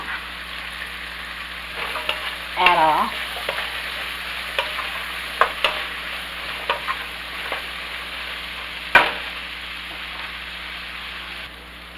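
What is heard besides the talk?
vegetables cooking in a pot for minestrone soup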